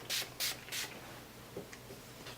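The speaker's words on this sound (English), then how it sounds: "now I'm going to set my face with the Mario Badescu spray again" Three quick hisses of Mario Badescu setting spray misted onto a face, evenly spaced and close to the mic, followed by a few faint soft taps in quiet surroundings.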